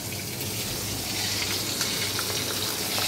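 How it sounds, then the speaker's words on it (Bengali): Pomfret fish frying in hot oil in a home kitchen, a steady crackling sizzle that runs continuously at moderate level with no talk. "দেখো এই যে পমফ্রেট মাছ ভাজা করছি।"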